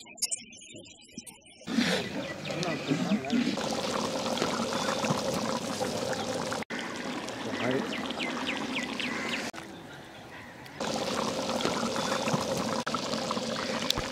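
Water poured into a pot of village-style dried fish curry, a steady close splashing pour that runs for most of the stretch with a brief pause partway, no talk over it.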